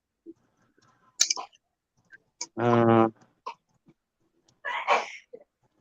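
A single voiced sneeze bursts out amid casual chatter in a live chat, loud and brief, with scattered talk and small noises around it.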